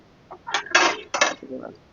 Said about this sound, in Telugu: ఇట్లా దంచుకోవాలి రోటి పచ్చడి అంటే